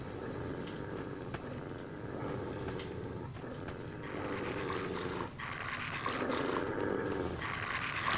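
Dogs growling in the game Fallout New Vegas, a continuous low, rough snarling with rising and falling surges, close and fairly loud.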